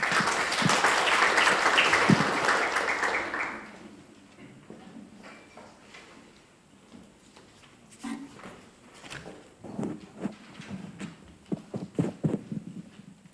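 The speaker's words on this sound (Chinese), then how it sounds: "首先我们以热烈的掌声有请我们王强副校长致辞" A lecture-hall audience at a university law forum gives loud, sustained applause for about three and a half seconds, then it fades into quiet room noise with scattered shuffles and knocks.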